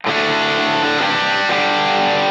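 Electric guitar on humbucker pickups, played through a Line 6 Pod Go with Minotaur overdrive and no reverb, rings out in dense, saturated sustained chords, loud and alone, with a couple of chord changes.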